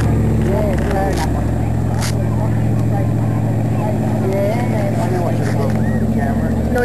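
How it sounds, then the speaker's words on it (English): Loud, rough engine drone of an old boat runs continuously up close, with people talking over it. "Noisy old boat, isn't it?"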